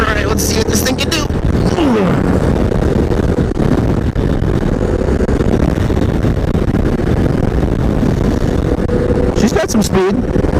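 A 2022 adventure motorcycle's engine roars steadily at speed on a test ride, with heavy wind rush and a couple of rising revs near the start and end, under a rider's intermittent talk.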